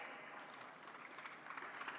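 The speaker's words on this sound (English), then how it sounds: "You can keep clapping, it's a good exercise." An audience at the India Startup Festival 2023 claps steadily for a couple of seconds, a dense, even patter of many hands at moderate volume with no voices.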